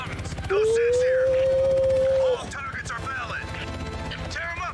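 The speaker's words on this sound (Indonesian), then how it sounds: "Ini kita nyetir helikopter." Helicopter piloted in Call of Duty: Black Ops Cold War over a Vietnam setting: a dense, steady rotor chop fills the whole stretch, with a loud sustained rising whine for about two seconds early on and scattered chirpy game effects afterward.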